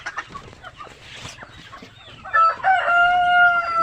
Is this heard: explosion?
no